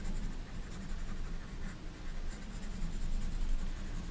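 An HB pencil shades hard across paper for a still-life drawing, a continuous close scratchy rasp with slight swells as the strokes press for the darkest value.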